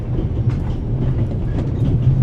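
A moving train in the game The Raven Remastered rumbles steadily with a low, continuous rolling drone and faint rhythmic wheel clatter, fairly loud and unbroken, with no voices.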